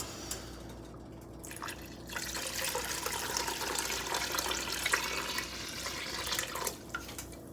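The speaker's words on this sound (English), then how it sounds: "Now we're going in with that stock." Stock being poured into a pot of shrimp creole with shell and celery-top scraps, a continuous close splashing trickle of liquid that grows fuller and steadier as it runs, with no talking.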